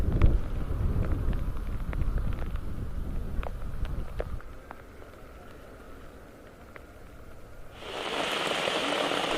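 Rain falls steadily on surfaces in Nampo, a close, dense patter with scattered droplet ticks, easing midway before a broader hiss of heavier rain and wind returns.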